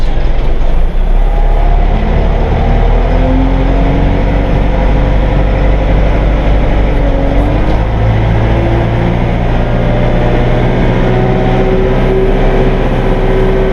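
Compact tractor with a bush hog attached runs in low gear while pushing against a big oak tree in deep woods, its engine a steady loud rumble that holds constant and close throughout.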